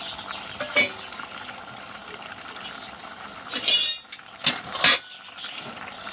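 Drumstick pieces drop into a boiling lentil and jackfruit-seed curry, giving a few sharp clinks and splashes against the pot over a steady low bubbling simmer.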